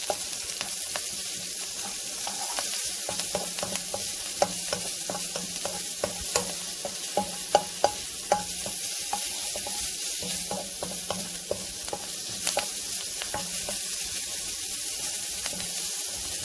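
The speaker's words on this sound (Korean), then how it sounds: "그 다음에 마늘 한 수저를 넣고 기름을 넣을 거예요." Garlic sizzles steadily in hot oil in a pan while tofu kimchi is being made. A continuous frying hiss carries a scatter of sharper crackles and pops throughout, with no talking.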